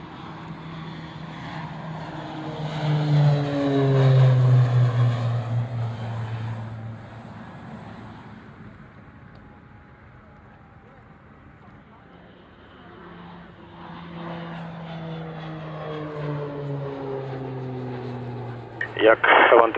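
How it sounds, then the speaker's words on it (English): A Beechcraft King Air turboprop rolls for takeoff at an airshow display, its propeller drone swelling loud in the first seconds, fading, then building again; radio talk from air traffic control runs over the engine noise. "Clear for takeoff and display, King Air."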